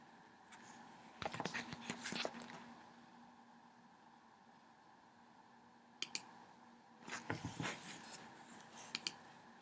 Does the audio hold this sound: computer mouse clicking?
yes